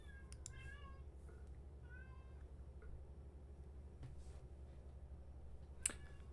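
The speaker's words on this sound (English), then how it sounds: "I hear a cat. It's not my cat. It's got to be the neighbor's cat." A neighbor's cat meows faintly several times from some distance in a quiet room, short plaintive calls spaced apart, with a sharp snap-like click near the end.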